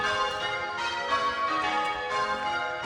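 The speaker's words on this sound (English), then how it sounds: "you can hear the church bells while I was speaking as well" Church bells ring steadily in the distance in Cornwall along the St Michael's Way, a sustained layered chime with rhythmic swells of strikes and no voices.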